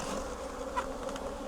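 Honey bees buzz steadily around an open beehive, a dense continuous drone of many wings close by, with a few louder individual bees passing near for a moment.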